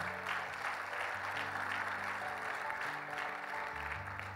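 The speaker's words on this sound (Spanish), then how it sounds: "¿Cuánto dan un fuerte aplauso al Señor?" A church congregation applauds for the Lord during a sermon, sustained clapping with a low hum of organ or keyboard tones underneath at a steady moderate level.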